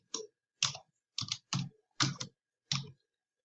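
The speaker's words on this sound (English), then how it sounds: "you don't have to click in it or anything to start typing" Keys clack on a computer keyboard in short separate bursts, about six quick clusters of typing with quiet pauses between them, close and clear with no voices.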